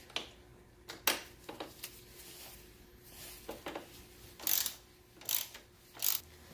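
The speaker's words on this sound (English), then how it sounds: "So to remove the passenger pegs, you need a T40" A hand ratchet fitted with a T40 Torx bit works the passenger peg bolts on a 2019 BMW F750/F850 GS motorcycle, giving a few separate bursts of quick clicking with pauses between them, close by and fairly quiet, with no talking.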